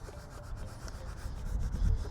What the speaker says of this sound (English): use the flat side of the squeegee just to tuck it under there